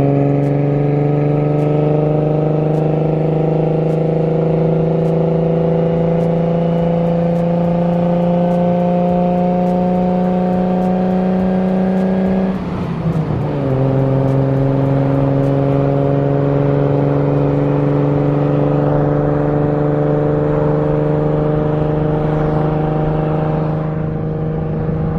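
A boosted Nissan 350z on drag wheels rolls along with a loud, steady engine drone that dips briefly as it shifts gear midway, then carries on evenly, with no one talking.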